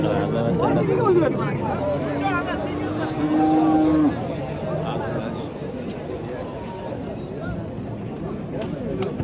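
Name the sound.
cattle lowing at a livestock market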